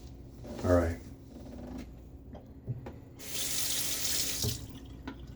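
Cold, hard tap water runs into a sink during a wet shave with a Gillette Aristocrat 15 razor, a steady hiss swelling in the second half under brief knocks and a short burst of talk near the start.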